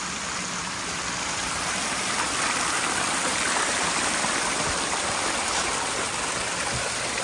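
Lower garden waterfall dropping into a small pool, a steady close-up rush of splashing water with no break in the sound.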